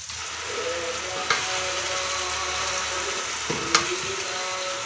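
Oil sizzles and crackles steadily in a pan as spices are tempered, with a couple of sharp clinks as something is tipped in.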